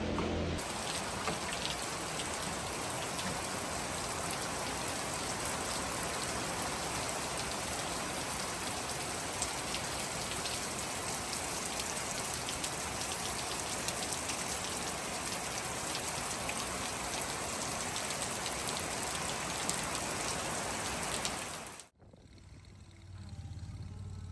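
Steady rain drums on a greenhouse roof in a dense, continuous hiss that holds at one level for about twenty seconds, then cuts off abruptly to a quieter background near the end.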